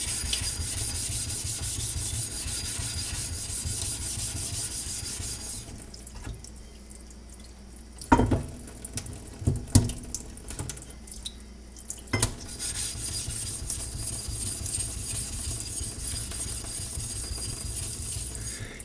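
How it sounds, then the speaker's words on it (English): Steady wet rubbing and scraping of a straight razor lapped on the 400 side of a Tomo sharpening stone, with a pause in the middle broken by a few sharp knocks before the strokes resume. "I'm lapping on the Toma, and I switched from the 140 side to the 400."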